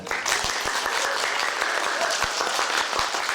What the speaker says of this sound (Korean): 아툴라 씨에게 다시 한번 큰 박수 부탁드리겠습니다